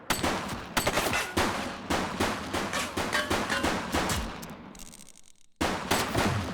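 Bursts of gunfire in the police video game The Precinct, repeated sharp shots and rapid volleys crackling close and loud, a brief lull near the end before the shooting resumes.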